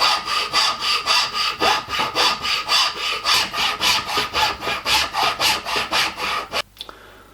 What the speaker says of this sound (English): I'll just snip to the bandsaw and cut that out